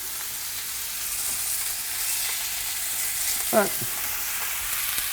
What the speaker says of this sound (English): Hear that? That perfect sizzle.